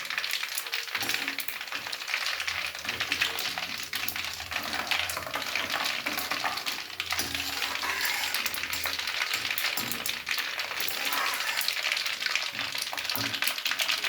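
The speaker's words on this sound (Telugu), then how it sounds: "గోలాయండి ఇవి ఆవాలు జీలకర్ర అయితే గోలాయి ఆల్రెడీ." Mustard seeds and cumin frying in a pan over low heat, a steady dense crackling sizzle that continues without a break, close up, with faint popping.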